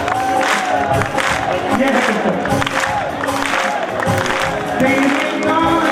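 An audience claps loudly and continuously at a bhajan performance, the dense applause blending with crowd voices and singing throughout.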